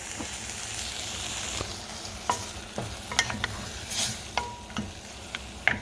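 Chili ingredients brown in a hot pan with a steady soft sizzle, punctuated by occasional clicks and scraping taps of stirring.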